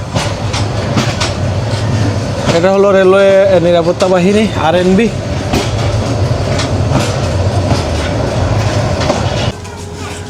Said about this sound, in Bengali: সো কুলাউড়া স্টেশন থেকে আমাদের ট্রেনটা ছেড়ে দিয়েছে